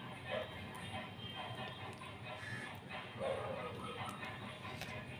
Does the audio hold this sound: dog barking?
yes